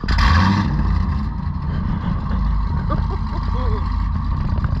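A Chevrolet Caprice PPV with Kooks headers idling after a warm start, a deep, loud rumbling exhaust burbling steadily throughout, close by.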